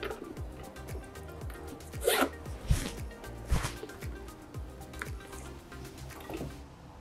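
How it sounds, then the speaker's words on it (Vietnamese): A zipper on a luxury Epsom leather bag is pulled in a few short, crisp rasping strokes, close and fairly quiet, with small clicks of the pull between them. "Phụ kiện siêu xịn kéo nghe rẹt."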